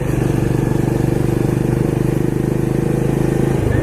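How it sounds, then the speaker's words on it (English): A Benelli Imperiale 400 motorcycle's big single-cylinder engine thumps steadily and loudly up close, a rough pulsing rumble held at an even pace throughout. "that's all part of the character of the bike, that big single cylinder engine"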